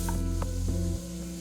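Chopped onion with whole cumin and cinnamon sizzles in a hot pan while being stirred, a steady close frying hiss with a few soft scraping strokes, dropping in level near the end.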